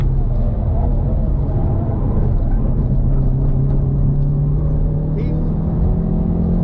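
A Hyundai Veloster N engine pulls hard in third gear on the Nordschleife, a loud, steady in-cabin drone rising slowly in pitch while a driver talks over it.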